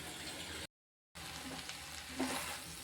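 Bitter gourd stir-fry cooking in oil over a low flame, a soft close sizzle broken by a short silent gap before it resumes.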